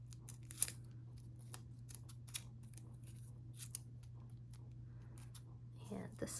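Scissors snipping through two layers of paper at once for a leopard pinata craft, with soft irregular close-up cuts in a quiet room and a voice talking quietly between them.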